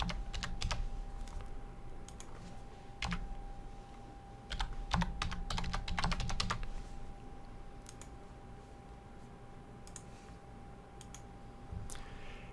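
Keys clatter on a computer keyboard in quick irregular bursts, with a denser flurry of typing midway and scattered single clicks near the end, close and clear against a quiet background.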